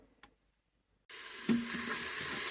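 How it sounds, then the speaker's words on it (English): After near silence, a steady loud hiss of chopped onion and garlic sizzling in a hot Instant Pot starts suddenly and continues, with a brief clink partway through. "I will be stirring it, frying it up a little bit until it's going to be aromatic"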